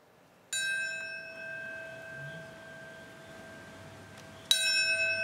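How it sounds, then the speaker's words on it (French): A memorial bell tolls at the 9/11 commemoration in New York, with two ringing strikes several seconds apart. Each strike's long tones hang and decay over a low, steady background hush. "on a fait sonner la cloche pour chacun des avions qui est allé s'écraser sur le World Trade Center, Sophie"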